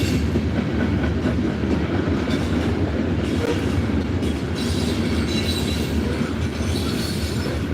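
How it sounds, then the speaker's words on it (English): A train rolls steadily past on railroad tracks near a library, a loud continuous rumble with rhythmic clickety-clack of wheels and faint squeal, close by and unbroken with no voices. "The train smoked up here on right in front of the library down there at the railroad tracks"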